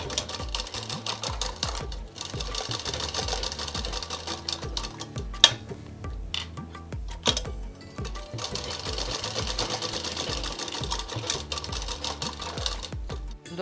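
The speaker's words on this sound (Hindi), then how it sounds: "अब हम कंधे को जॉइंट करेंगे, दोनों ही कंधों को दाएं और बाएं, और हाफ इंच की डबल सिलाई दे देंगे।" An electric sewing machine stitches double half-inch shoulder seams on a frock in rapid rhythmic bursts, pausing briefly between runs, close and clear with light mechanical clicks.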